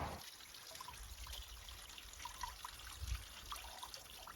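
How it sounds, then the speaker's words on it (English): Steady trickling water from a melting frozen waterfall on a hillside, a soft, continuous splashing texture, fairly close, with a faint low thump near the end; no voices. "There's actually quite a lot of water coming down there."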